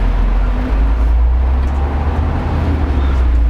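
A 1976 Setra S215HD prototype bus rolls off, its engine a loud, steady low rumble droning close by throughout.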